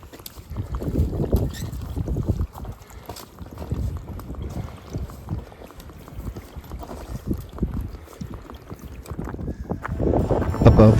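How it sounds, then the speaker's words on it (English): Strong mountain wind gusts above tree line on Mt. Washington, near the Cog railway tracks, roar and buffet the microphone in an uneven, rumbling rush that swells toward the end. "Above tree line, the wind became a physical wall."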